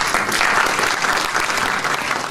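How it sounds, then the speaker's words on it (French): Audience at a French conference on public broadband networks claps steadily, a dense, even round of applause from a room full of people with no talk over it. "merci Cyril, on vous applaudit également"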